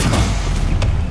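Stupefy stunning spell blast in Hogwarts Legacy combat: short punchy thumps in quick succession over a steady low rumble, loud and close, with no voices.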